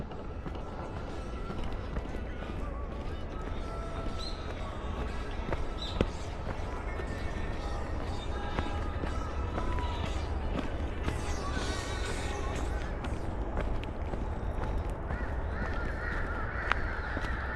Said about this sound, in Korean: 이 새소리, 그다음에 까마귀 막 뭐